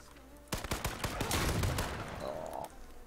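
Gunfire in the video game H1Z1 erupts after a quiet moment, with a rapid burst of several sharp shots and a short fusillade, followed by fainter game sounds and a brief tone.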